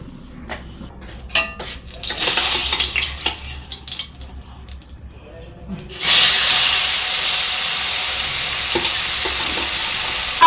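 Bhola fish sliding into hot oil with salt and turmeric in a wok, a few clatters first, then a sudden loud, steady sizzle that carries on close by.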